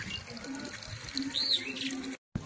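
Water runs from a tap at a village home in a brief, steady splashing rush, fairly close, cutting off abruptly near the end without talking.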